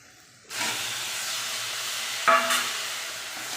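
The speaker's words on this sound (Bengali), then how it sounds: "আমি এতে টমেটো দিয়ে দিচ্ছি" Onions and tomatoes stirred in a cooking pan for an oil-free fish curry: a hiss and steam begin abruptly, then a steady close sizzle with one sharper clatter of the spoon partway through, no voices.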